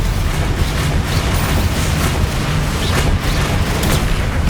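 Booming blasts of the Confringo fire spell in the wizarding video game Hogwarts Legacy, a dense, sustained roar of rumbling explosions with no speech.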